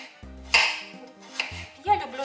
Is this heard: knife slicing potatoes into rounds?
yes